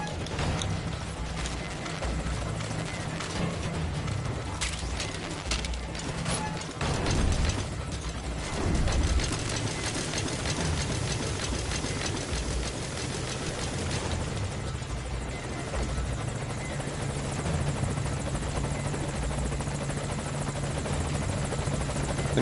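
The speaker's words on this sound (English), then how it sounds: "I'm sending a chopper to pick you up." A helicopter arrives in Metal Gear Solid V: Ground Zeros, its loud, close rotor thumping and turbine whine holding steady throughout with rattling mechanical clatter, no voices.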